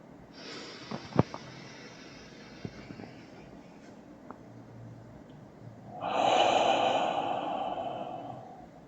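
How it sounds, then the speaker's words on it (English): Deep yogic breathing at the close of a balance-focused yoga class: a few soft nasal inhales with small sniffs, then a long, loud breathy exhale through the mouth released as a sigh, heard close and alone. "inhale through the nose and out through the mouth with a sigh"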